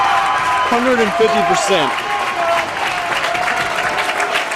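Fans at a Colorado State versus CU college hockey game applaud and cheer in a steady, dense wash of clapping, with a commentator talking over the crowd noise throughout.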